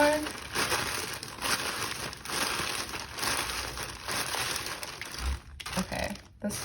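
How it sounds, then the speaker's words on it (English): Tarot cards being shuffled, a steady papery crinkling and riffling that runs close and fairly quiet, with a few brief pauses near the end. "this was some weird shuffling"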